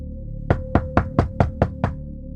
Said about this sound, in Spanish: cuando alguien tocó a la puerta